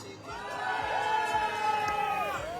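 At the start of a stage of La Grande Odyssée sled dog race, an outdoor crowd yells and cheers together in one sustained roar, with overlapping shouts rising and falling for a couple of seconds.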